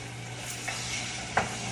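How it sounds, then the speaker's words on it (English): Mop sauce sizzles steadily in a hot pan, a constant crackling hiss with a couple of soft clicks from a spoon. "And as y'all can hear, it's sizzling."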